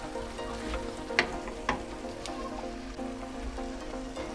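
Potatoes, carrots, fenugreek leaves and peas frying quietly in a pan, a soft continuous crackle and sizzle with a few sharper pops and utensil taps.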